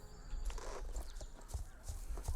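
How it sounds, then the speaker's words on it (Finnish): Hooves of a kelpie horse clip-clop along a trail in Star Stable Online during a Halloween ride, a steady run of soft thuds over background game ambience. "Ne on tuonut takas ton vitsin kelpien hevosen tänne vaellukselle."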